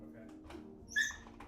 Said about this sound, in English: she just yips. And barks. He's a barker.